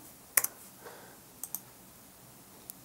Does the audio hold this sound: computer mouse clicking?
yes